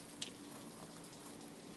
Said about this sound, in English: We out here in the damn rain.